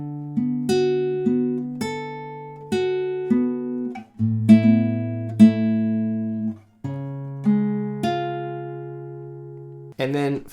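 An acoustic guitar fingerpicks the chord pattern of a song. Clear single plucked notes ring out and overlap in a slow, even rhythm, with a short final strum.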